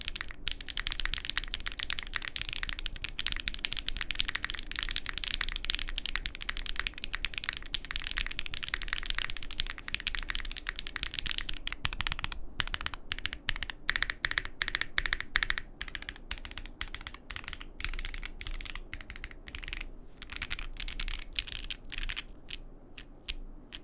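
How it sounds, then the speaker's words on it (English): Steady, fast typing rattles across a mechanical keyboard fitted with Black Sesame V2 linear switches and a long-pole spacebar, giving a continuous stream of soft, clacky keystrokes that thin into sparser presses near the end, close up and with no talking. "the black sesame switches actually sounded pretty great"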